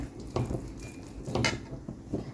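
A spoon mashing and stirring sabudana and broken-rice dough in a pan, with a few scraping, clacking strokes against the metal at an uneven rhythm.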